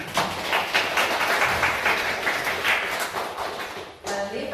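An audience at the opening of a Theresienstadt ghetto exhibition applauds to welcome the Czech ambassador to Slovenia. The clapping forms a dense, continuous wash with rhythmic thumping pulses and eases off near the end.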